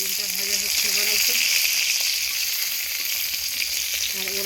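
Eggplant sizzling as it fries in a pan, a dense unbroken hiss held close and loud, while someone talks briefly in the background at the start and end.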